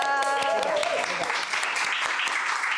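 An audience at an interview session on organizational culture and humane leadership claps continuously, with a voice speaking over the start of the applause before it carries on alone.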